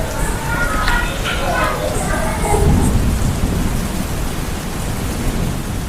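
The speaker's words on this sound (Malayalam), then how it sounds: "അയ്യോ, മഴയും കാറ്റും വരുന്നു" Heavy rain and wind with rumbling thunder on an outdoor nature walk, a loud continuous wash of rainfall with a deep roll of thunder partway through and faint voices underneath.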